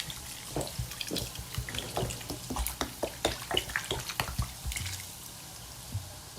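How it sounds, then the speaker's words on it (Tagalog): Water pours and splashes into a pot of pork cooking with leftover Sprite, a run of uneven splashy bursts and drips, fairly close and steady throughout with no talk. "Yan na yung tubig natin. Ibuhos ko na tong lahat."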